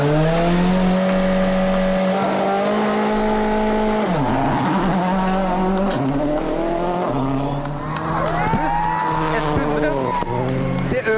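Henning Solberg's Peugeot rally car on a gravel stage of the Mexico rally, its engine loud and close, revving through rising and falling gear changes with sharp drops as it brakes and accelerates.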